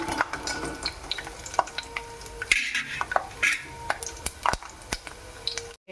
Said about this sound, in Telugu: ఇవి కొంచెం ఫ్రై కావాలండి.